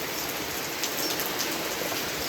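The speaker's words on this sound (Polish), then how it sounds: "a to co słyszycie to jest deszcz." Steady rain falls and patters on surfaces around a terrace, a dense, even hiss of drops heard close and alone with no voices.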